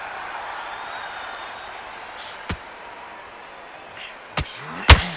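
A boxing bell rings sharply to open a round at a professional fight, a few quick distinct strikes near the end over a steady crowd murmur in a large arena.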